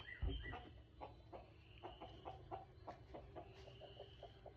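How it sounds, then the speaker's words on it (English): Several birds chirp and call outdoors in short, scattered bursts, moderately distant, over a low steady background rumble. "Listen to these birds out here."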